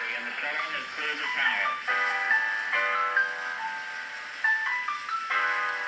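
Tonal music plays from a phone through a homemade speaker built from scrap wood, with sustained melodic notes changing every second or so at moderate loudness, close by.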